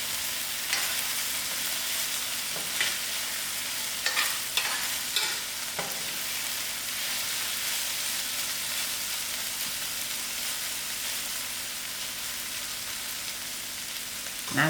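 Green beans and peas fry in a pan for a masala, giving a steady, close sizzle with occasional scraping stirs and no talking.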